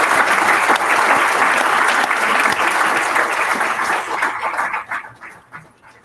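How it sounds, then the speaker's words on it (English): Audience applause at the Bermuda Sports Awards ceremony fills the room as a steady, dense wash of clapping for about five seconds, then thins and fades out. "So give all of those persons as well a round of applause"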